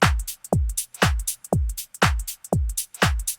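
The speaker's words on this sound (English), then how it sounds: "So this is the drum stem," Drum stem from a remix: a steady pattern of punchy kicks roughly every half second with crisp snare and hi-hat hits between, loud, dry and alone with no voices.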